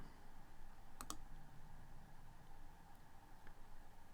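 A couple of quick, faint computer mouse clicks close together, over a steady low hum with no talking.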